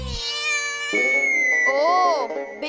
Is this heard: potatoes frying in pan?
no